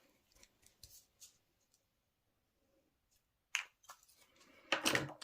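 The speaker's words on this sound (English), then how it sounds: "use your paper snips and carefully cut just that circle off" Paper snips trim a circle off a handmade card tag, giving a few soft, close snips and clicks with quiet gaps and a louder crisp cut near the end.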